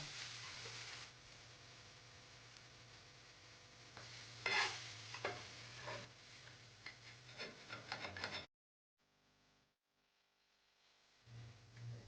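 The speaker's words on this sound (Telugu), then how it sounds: "ముందుగా మనం ప్రిపేర్ చేసుకున్న బేసన్ పిండి మిశ్రమంలో బ్రెడ్ని ముంచి వేడి నూనెలో వేసుకోవాలి." Bread slices dipped in besan batter frying in hot oil for bread pakoda: a soft, steady sizzle with scraping and stirring noises, which cuts out abruptly near the end before a faint return.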